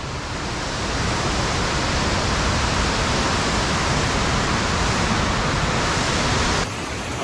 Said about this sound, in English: here we are at the Abe Great Falls, Abe-otaki waterfall